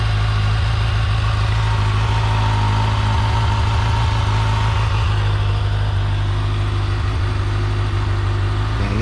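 A 2024 Kawasaki Ninja ZX-6R sport bike idles after an oil change, giving a steady, loud, close engine drone that holds even throughout without talk.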